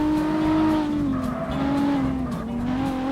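A car engine revs and holds a droning pitch with tires squealing in the CarX Street racing game, loud and continuous, the tone dipping and rising as the car corners.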